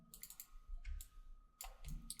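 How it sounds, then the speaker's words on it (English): A few sharp computer mouse clicks in a quiet room, crisp and close, scattered in small bursts over a couple of seconds. "we want to click on the sphere"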